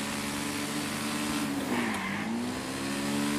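An off-road motorbike engine in GTA 5 hums steadily, then its pitch dips and climbs again as the bike rides over hilly terrain. The engine tone is loud and continuous, with no talking.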